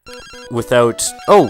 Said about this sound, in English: random phone call!